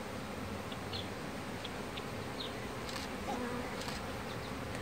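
A swarm of honeybees flying around a person near a beekeeping box, a steady close buzzing drone filling the air without pause, with faint outdoor sounds behind it.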